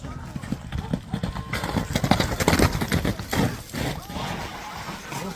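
Racehorse hooves clip-clop at a run on a Kyrgyz horse event ground, a steady stream of close, thudding beats mixed into busy crowd noise and people talking over them.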